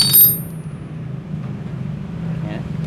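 A Suzuki Shogun R 110 motorcycle with a badly adjusted, stiff clutch starts up. After a brief click, a low, steady engine rumble settles in close by and keeps going.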